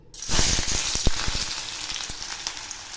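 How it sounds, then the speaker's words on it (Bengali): Two onions fry in hot oil for a Bengali raw banana peel paste, giving a loud, steady sizzle with scattered crackles and a few clicking stirs close up, no voices. "এবার আমি ওই তেলে 2টো পেঁয়াজ ভেজে নিচ্ছি"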